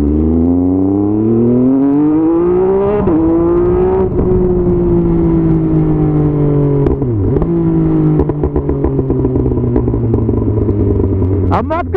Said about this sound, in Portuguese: A moto que mais pipoca no Brasil